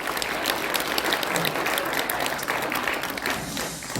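Loud, full applause from the crowd at a citizens' public hearing on open primaries, a sustained wash of many people clapping together as a speaker is welcomed, with no talk over it.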